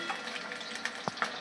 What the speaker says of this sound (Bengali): ডিমটা লাল করে ভালো করে ভেজে নেব।